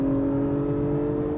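A 2021 Acura TLX Type S accelerates with a steady, moderately loud engine hum and whir heard from inside the cabin, and nobody speaking.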